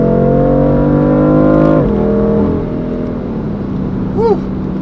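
A BMW F82 M4 in M mode with Sport Plus settings pulls hard with a loud rising engine roar from inside, snapping through an upshift and settling into a steady drone before a brief chirp.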